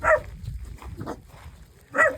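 A dog barks at close range, two or three short yaps spaced about a second apart with softer whimpering sounds between them, and no voices.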